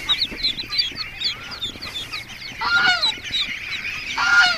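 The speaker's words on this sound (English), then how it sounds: "Hello, ducks." A group of ducks honks and quacks close by in noisy, overlapping bursts, louder calls swelling near the end.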